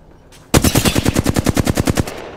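Automatic gunfire in Apex Legends: a loud, close burst of about fifteen evenly spaced shots in quick succession, cutting off abruptly, with no talking.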